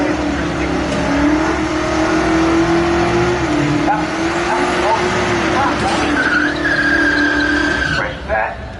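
A police car drives past at a Mopar car show. Its engine drones steadily and a high squeal rises near the end, with voices and crowd noise around it.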